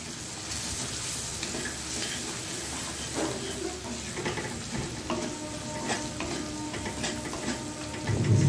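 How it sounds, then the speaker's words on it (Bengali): Onions frying in a pan, a steady moderate sizzle with intermittent stirring scrapes and light clinks, a brief louder burst near the end, no voices. "পেঁয়াজটা যতক্ষণ না ভালোভাবে ভাজছি আমি কিন্তু এটা অন্য কিছু দেব না"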